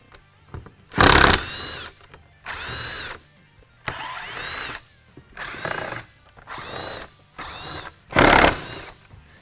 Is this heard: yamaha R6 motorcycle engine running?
no